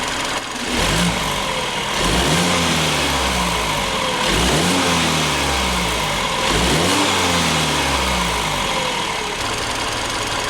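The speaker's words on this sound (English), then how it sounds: "now that the car is warmed up, this is going to be some revs in comfort." A 2017 BMW F30 330i with its B48 engine and BMS intake, warmed up in comfort mode, revs three times from idle in moderate, evenly spaced blips, heard nearby without talk.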